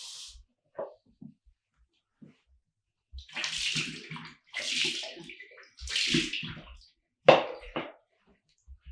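Water poured from a cup over hands in a ritual handwashing, several distinct splashing pours of a few seconds each separated by quiet gaps, close and fairly loud.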